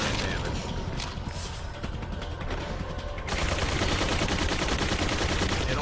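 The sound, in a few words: Gatling gun firing bullets in a video game (Resident Evil 2)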